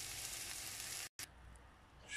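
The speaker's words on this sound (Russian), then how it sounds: "Сейчас чеснок обжарим" Garlic and onion frying in a pan give off a steady, faint sizzle, broken by one brief gap of silence partway through before the hiss resumes.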